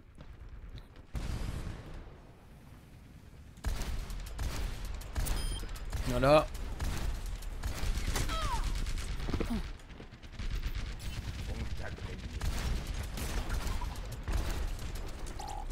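Bastion's turret fire in Overwatch, rapid mechanical gunfire bursts mixed with clanks and other game effects, fairly quiet and continuous, with a voice briefly speaking over it.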